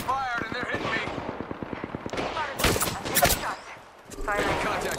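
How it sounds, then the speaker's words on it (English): Rapid bursts of video game gunfire crackle in quick succession, with dense shots clustered midway, mixed with people talking over the game action. "Shots fired and they're hitting me."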